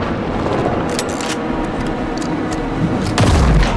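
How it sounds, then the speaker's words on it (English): Gunfire rattles through a tense fight in the video game Alan Wake 2, sharp shots cracking over a dense, loud wash of rumbling action and ambience, with a heavy boom swelling near the end. "Anderson, pin him down with gunfire for me to get the light on him"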